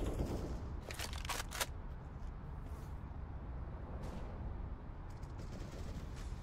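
Rapid gunfire bursts from CS:GO competitive match play, several sharp cracks clustered early then sporadic shots, set against a dense, steady game ambience.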